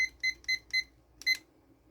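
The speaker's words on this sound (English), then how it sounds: "Once my 5-minute timer goes off" A 5-minute kitchen timer goes off while a Thai coconut curry chicken soup cooks, sounding four quick high-pitched beep bursts in a row, then a pause and one more, clear and alone.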